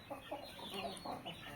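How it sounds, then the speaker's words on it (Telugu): A Martin Miller rooster, about 6.5 kg, makes a few soft, close clucking calls in short bursts, quiet against a faint background hiss. "మార్టిన్ మిల్లర్కి సంబంధించిన పుంజు అండి"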